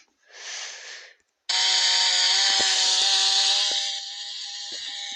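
A cartoon chainsaw revs in a short burst, pauses, then roars steadily and loudly at close range before easing slightly toward the end.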